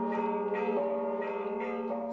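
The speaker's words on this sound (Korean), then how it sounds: "새벽, 청아한 종소리에 베들레헴은 밝은 기지개를 켠다." Church bells ring at dawn in Bethlehem, sustained clear bronze tones layered over one another and humming on continuously at steady loudness, with new strikes swelling in about every half second to second.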